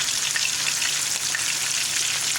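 Hot oil popping and sizzling around frying fish, a dense, steady crackle of tiny pops at moderate volume, with no voices.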